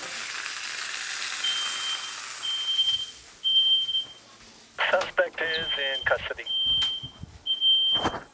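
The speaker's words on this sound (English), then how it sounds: "that's always fun, setting off the fire alarm" A smoke alarm, set off by searing food on the stove, sounds in repeated high-pitched beeps over a faint sizzle, while a person speaks briefly between the beeps.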